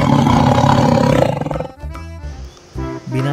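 A tiger gives one loud, close roar that rumbles and then fades out, followed by a few shorter tonal sounds.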